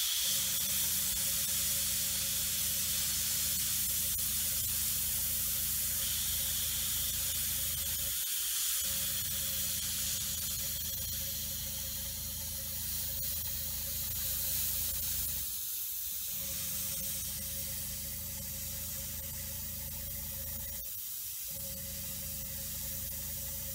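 Paint spray gun hissing steadily as air and color stream out, close and continuous, with three short breaks where the trigger is released, no one talking over it.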